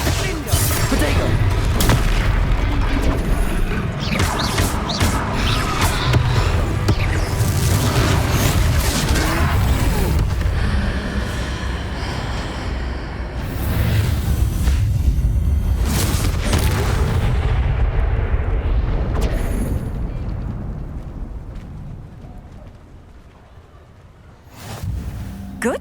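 A troll battle in Hogwarts Legacy, with loud, dense booming impacts and spell blasts rolling almost continuously, easing briefly mid-way, then fading toward the end with a final thump.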